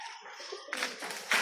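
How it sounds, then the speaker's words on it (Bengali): A pigeon at a village pigeon house gives a soft, brief coo close by, followed by a few rustling and tapping sounds in the short quiet outdoor moment. "ওই যে একটা কবুতর দেখতেছেন"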